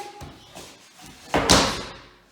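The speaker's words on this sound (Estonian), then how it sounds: "Ja tool läks ümber" A wooden chair tipping over and crashing during a staged performance of the fairy tale Three Bears, one loud clattering impact rising sharply and then fading, preceded by softer shuffling bumps.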